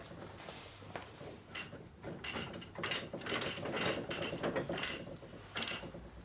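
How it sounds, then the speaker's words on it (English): A ratchet and pawl on a quilting frame clacks in a run of quick, uneven clicks as the frame is wound, close and fairly loud, with no voices. "Hear the clacking noise? That's engaging it. It's like a brake."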